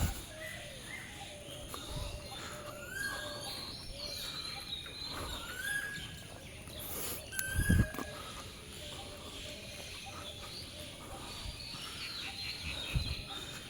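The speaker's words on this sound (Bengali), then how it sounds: "পাখির ডাক শুনতে পারেন" Scattered bird calls and chirps ring out at dawn in a park in Mymensingh, over a quiet outdoor hush, with faint insect buzzing and occasional soft thumps nearby.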